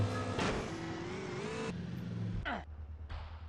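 A motorcycle engine in GTA San Andreas, played on a phone, whines and revs steadily up close, then cuts out, followed by brief bursts of game noise and quieter engine sounds, with no speech.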